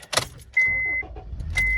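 A Honda car is cranked briefly with the key, with the foot on the brake and chimes sounding, and the engine turns over and settles into a low idle, close and fairly quiet; no one speaks.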